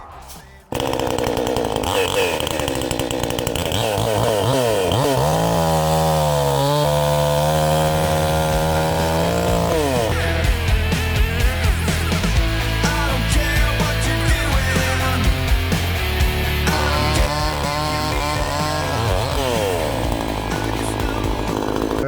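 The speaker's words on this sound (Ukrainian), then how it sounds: "Перше спробуємо потужнішу пилку." A Ronix 4650 petrol chainsaw roars nonstop at close range, its engine pitch dipping and rising as the blade bites into and works through a wooden log.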